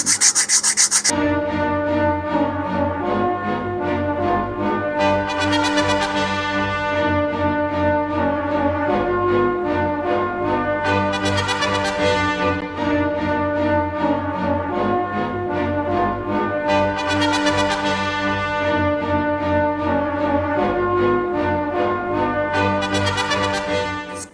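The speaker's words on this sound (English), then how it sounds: "I'm simply going to use some 150 grit sandpaper here and just start smoothing things in." A model rocket is hand-sanded with 150 grit sandpaper, a continuous close rubbing rasp that swells in regular strokes and keeps going throughout, with no talking.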